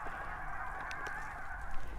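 Constant honking from a big flock of geese, many overlapping calls blending into a steady, moderately distant clamor.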